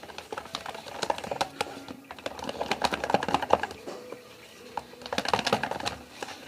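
Homemade slime stirred in a container, made with condensed milk paste and cassava flour, gives a run of quick wet clicks and taps in irregular bursts, close and moderately loud, with short pauses between flurries.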